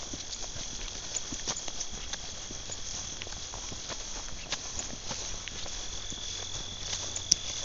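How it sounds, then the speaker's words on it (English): Cicadas buzz in a steady, high, continuous drone at a homestead near Wawanesa, Manitoba, with soft footsteps patter along underneath. "cicadas."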